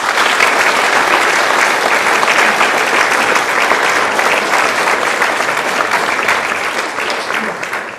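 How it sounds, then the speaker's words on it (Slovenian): Sustained audience applause at a cultural evening honouring pilot Matevž Lenarčič, dense and steady clapping from a large crowd throughout, loud and close, tapering only slightly at the end. "še enkrat en aplavz za vse tri."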